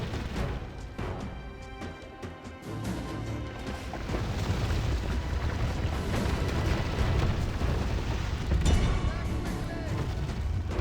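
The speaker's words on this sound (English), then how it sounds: "Oh, the walls are collapsing." Mines detonating and city walls collapsing during a game siege, a long rumbling mass of booms and crashing debris that swells and stays loud, with voices over it.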